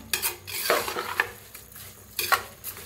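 Rice being roasted and stirred in oil in a metal pot for masala bhaat, with a spoon scraping and clinking against the pot in several distinct strokes over a soft sizzle, close and fairly loud.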